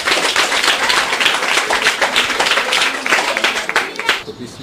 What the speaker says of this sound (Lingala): Acclamons vraiment, acclamons, acclamons.